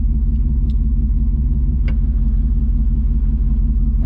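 A 1994 Pontiac Firebird Trans Am idling with a deep, even engine rumble, loud and close, its low throb steady throughout with a couple of faint clicks on top and no talking.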